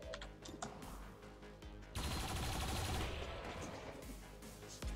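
Gunfire from the XCOM 2 video game: a rapid burst of sharp shots, followed by a louder, denser stretch of sustained firing that fills the rest of the moment, with no voices over it.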